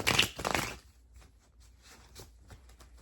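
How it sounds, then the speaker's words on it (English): Tarot cards riffle-shuffled by hand in a quick, close burst of papery flutter and snapping, followed by faint soft handling and quiet room tone. "One more shuffle."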